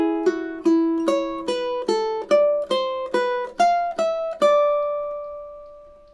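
Ukulele plays two measures of the classical piece "A Little Flower": a steady run of about ten evenly spaced plucked notes, close and clear, ending on a ringing held note.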